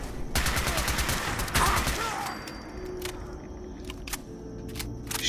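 Rapid video game gunfire from a powerful gun, a dense burst of automatic shots up front, then scattered single shots and clicks over game ambience, loud and close.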